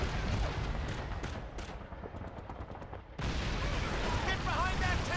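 An explosive blowing up barbed wire in Call of Duty 2 during a World War II battle, a loud dense burst of blast and gunfire that briefly thins, then surges back amid continuous battlefield noise with voices.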